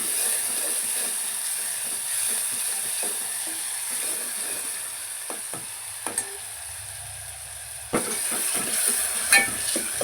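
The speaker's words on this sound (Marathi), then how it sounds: "कांदा टोमॅटो छान भाजून घ्यायचा" Finely chopped onion and tomato sauté in a pan for dal tadka, giving a steady, fairly loud hiss of frying with a few scattered clicks of a utensil against the pan.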